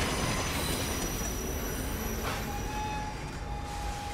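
A train rushes past in the video game Assassin's Creed Unity, a loud, continuous roar of rolling wagons with a high wheel squeal that rises and then holds, close and without voices.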